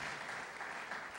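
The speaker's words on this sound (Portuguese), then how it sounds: "Então vamos aplaudir o nosso Deus aí." A church congregation applauds together in a brief, dense wash of clapping, heard at a distance and fairly quiet.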